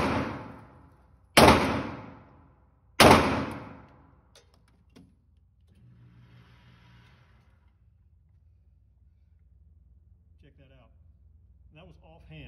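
Beretta M9 pistol fired one-handed offhand: two sharp, loud shots about a second and a half apart, each with a ringing decay, following the tail of an earlier report, then quiet with faint low murmuring.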